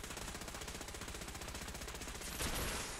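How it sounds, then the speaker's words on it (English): Rapid sustained Gatling laser fire from a Fallout 4 game, a dense unbroken stream of fast pulses holding steady for about three seconds and swelling briefly louder near the end. "he just has like a laser, like a Gatling laser or something"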